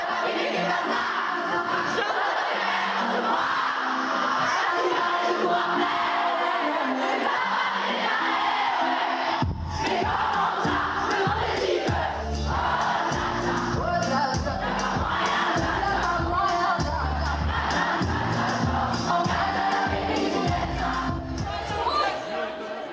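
A concert crowd at a show roars and sings along to a hit song, the dense cheering and whooping loud and continuous under booming bass music for the whole stretch.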